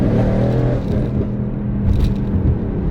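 A tuned Mercedes GLC63 AMG launches from a brake-held start at full throttle, its engine roaring loud and continuous as it pulls hard, heard from inside the cabin.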